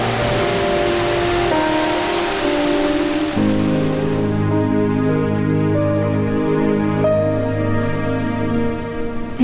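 Heavy rain falls steadily, a dense wash of drops hitting surfaces, heard behind a tonal musical score that carries through the whole stretch.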